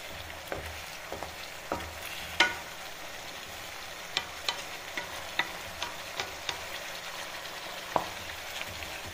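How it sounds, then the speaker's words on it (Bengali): Spice paste for a Bangladeshi duck curry fries in oil in a pan, a low steady sizzle under regular clicks and scrapes of a spoon stirring, heard close up with no talking. "ভালো করে মশলা কষাতে হবে"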